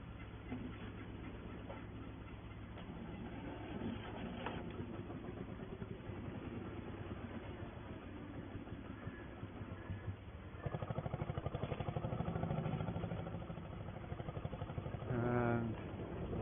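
A tractor engine runs during sugar beet lifting on a farm in November 1960, a steady mid-pitched idling drone with a rougher, louder stretch toward the end.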